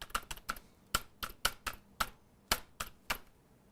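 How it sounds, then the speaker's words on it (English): Keys tapped on a computer keyboard in short, uneven clusters of crisp clicks, close and clear in a quiet room with no talking. "I'm just going to come down here and I'm going to type."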